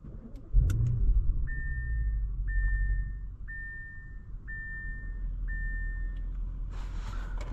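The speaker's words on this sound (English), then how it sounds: "today we're going for a drive in this 2016 Audi RS7" A 2016 Audi RS7 cruising, a low steady engine and road rumble inside the cabin with a repeating electronic chime sounding several times over it.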